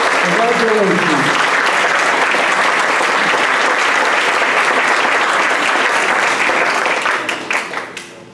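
Sustained applause fills a school district board of education meeting honoring students, a loud even roar of many hands with a voice briefly heard at the start, tapering off in the final second.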